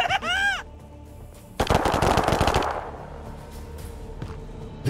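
Automatic gunfire in the video game Warhammer 40,000: Chaos Gate - Daemonhunters erupts as a loud, rapid burst of shots lasting about a second, following a short synthetic tone and fading into quieter game ambience.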